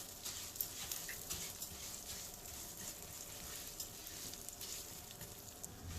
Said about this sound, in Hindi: बस अब इसमें हम ये दलिया डाल देंगे और इसे भूनना स्टार्ट करते हैं।